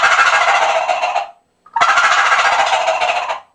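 A hunter's gobble tube call imitates a gobbling turkey in two loud, rattling bursts separated by a short pause, heard up close with no talking.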